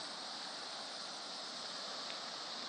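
Floodwater rushing steadily during a typhoon, a constant broadband roar of flowing water heard up close with no breaks or voices.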